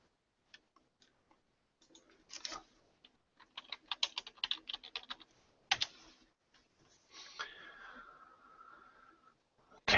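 Irregular clicks of typing on a computer keyboard, quiet and close, in scattered bursts of keystrokes with pauses between them.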